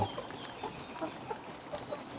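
Layer chickens in a poultry shed giving soft scattered clucks, a faint background murmur of birds with a few brief calls standing out.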